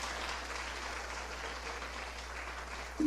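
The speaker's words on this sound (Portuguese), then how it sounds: "Então aplauda essa festa maravilhosa." A church congregation applauding during a communion service, a faint, distant, steady patter of clapping with a low hum beneath, ending with a sudden louder sound at the close.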